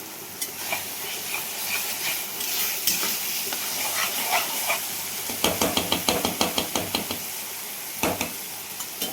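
Garlic sizzles steadily in hot oil in a pan, with a burst of rhythmic spoon or spatula scrapes partway through as it is stirred. There is no talking.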